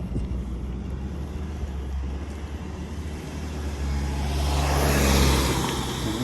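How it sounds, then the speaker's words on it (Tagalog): Cars rushing past on a busy road, a steady low traffic roar that swells as a vehicle draws near toward the end, with no talking. "Bilis yung mga sasakyan dito."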